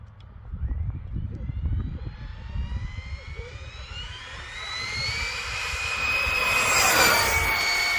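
An Arrma RC car, in a Mojave 6s versus Senton BLX speed test, runs at full throttle with a rising high-pitched motor whine that climbs steadily and grows louder toward the end, over rumbling road noise.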